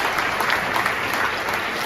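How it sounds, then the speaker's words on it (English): An audience at a ceremony speech claps in a steady, dense burst, many hands together at fairly close range with no speech over it. "And people are clapping for the lady."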